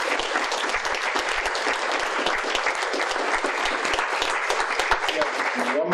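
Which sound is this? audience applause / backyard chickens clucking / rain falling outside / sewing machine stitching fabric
audience applause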